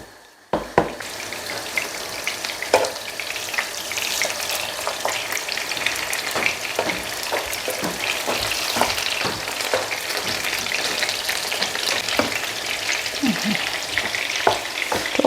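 Fish cutlets fry in a pan with a continuous close sizzle, studded with sharp crackles and small stirring clicks throughout, and no voices.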